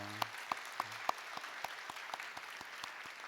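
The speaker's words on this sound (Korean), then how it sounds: "우리 격려의 박수 한번 드리겠습니다." Sparse, scattered claps from a church congregation during a Sunday worship service, faint and distant, with a brief voice at the very start.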